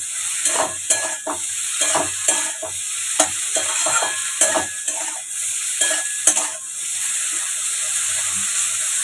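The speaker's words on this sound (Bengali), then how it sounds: "আর হলুদগুলো দিয়ে দেবেন। দিয়ে নাড়াচাড়া করে নেব।" Turmeric and greens hiss and crackle in a hot frying pan while a spatula stirs them, producing irregular close scrapes and taps over a constant sizzle; no one speaks.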